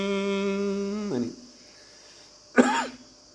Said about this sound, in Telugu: ఇలా చేస్తే కొంతమందికి దగ్గు వస్తుంది.